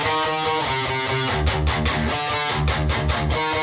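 Electric guitar 1 plays a dense, distorted harmony riff, heavy and continuous with chugging low notes and steady rhythmic picking throughout, no voice present.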